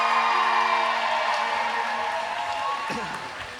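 A crowd cheers and claps for the Wheels of Justice team at a game against Bridgetown Menace, a busy mix of applause and whoops that slowly fades, with an announcer's voice partly over it.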